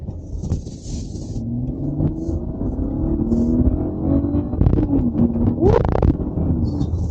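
2023 Mercedes-Benz GLE 450 4Matic 3.0 turbo hybrid rounding a turn, its engine rising and falling in pitch under a steady road rumble, heard loud from inside the cabin, with a few brief clicks and tones.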